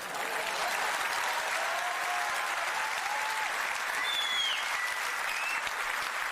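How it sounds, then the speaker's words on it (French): Steady, dense applause from a large audience, loud and sustained throughout with no pauses. "Là, tu peux applaudir."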